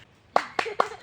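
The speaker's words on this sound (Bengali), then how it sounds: "সবাই হাততালি দেন জোরে।" Four sharp, evenly spaced hand claps ring out close and clear at a staged political rally skit, with nothing else in between.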